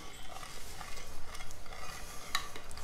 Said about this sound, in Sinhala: දාලා හැඳි ගාලා හොඳට මේක ජෙලි එක දිය වෙන්න